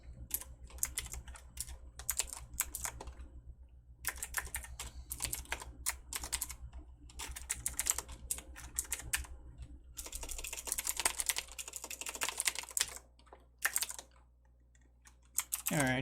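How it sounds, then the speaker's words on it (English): Rapid clicking keystrokes come in bursts on a computer keyboard, close and fairly quiet, with a denser flurry of typing near the end and a faint low hum underneath. "It's almost faster just to type it."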